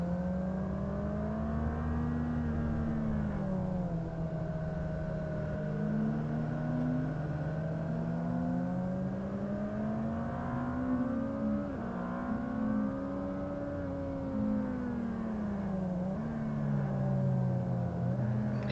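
A car engine on a race track in a novice group session at Ridge, loud and steady throughout, with its pitch rising and falling as it revs hard out of a low corner and climbs through the gears, with no talking.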